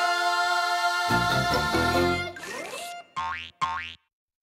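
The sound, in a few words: cartoon boing sound effect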